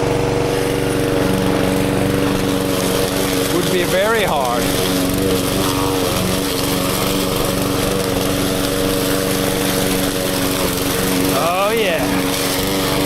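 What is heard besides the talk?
lawn mower engine running while mowing grass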